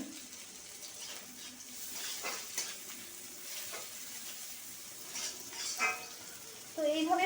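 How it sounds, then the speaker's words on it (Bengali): Onions frying in a pan and being stirred, with a steady soft sizzle broken by scraping strokes of the spoon, close and moderately quiet, and a brief burst of water near the end. "তো পেঁয়াজটা ভালো করে ভাজা হয়ে যায়"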